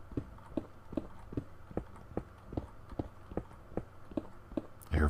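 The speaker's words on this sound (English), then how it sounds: "I hear footsteps, so I must be by a cave." Footsteps sound near a cave in Minecraft, a regular series of about a dozen soft, evenly spaced thuds at a walking pace, moderately close, ending in a brief louder burst.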